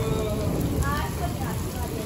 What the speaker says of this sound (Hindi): आजकल तो पंजाब में इतनी गर्मी पड़ रही है, तो ये बारिश कहाँ से आ गई